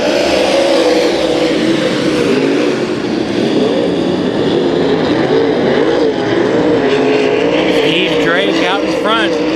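Late model race cars roar around Kings Speedway during a heat race, engines loud and continuous, with a race announcer talking over the pack throughout.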